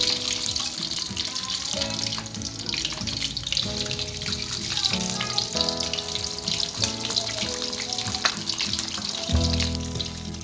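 Mackerel tuna (tongkol) frying in hot oil in a pan for gulai, a dense continuous sizzle and crackle with steady spitting pops and a clattering bump near the end, loud and close with no voices.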